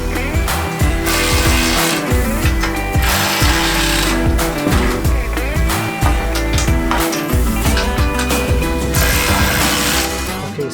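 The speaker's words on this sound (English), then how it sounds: "These are nylocks, so I'm going to cinch them in as much as I can" A hand ratchet tightens nylock nuts on rock slider brackets on a Jeep JL Wrangler. Rapid, loud metallic clicking runs continuously up close, with brief pauses between strokes.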